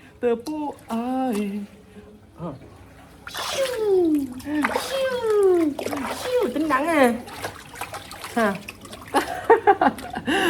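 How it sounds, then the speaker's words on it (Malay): A small child slaps and splashes water with her hands in a swimming pool, repeated irregular splashes up close, mixed with a child's squeals and an adult speaking throughout. "Main tepuk-tepuk air je ke?"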